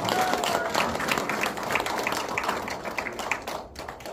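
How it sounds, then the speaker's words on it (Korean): An audience at a Korean lecture forum claps in sustained applause, a dense crackle of many hands that fades slightly toward the end. "박수 한번 주시죠."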